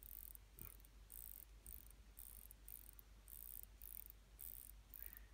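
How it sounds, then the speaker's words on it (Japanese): Hand-winding the mainspring of a mechanical watch, a faint, very close rapid ratcheting tick repeated in short regular bursts. "こっち巻くとこう、ゼンマイを溜めてます。"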